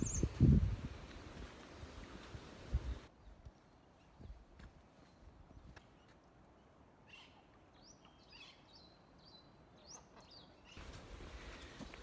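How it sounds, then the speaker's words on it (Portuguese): Faint, high chirps and short calls from small birds scattered through a cold forest, distant and sparse, framed by louder rustling at the start and end. "Escuta os passarinhos."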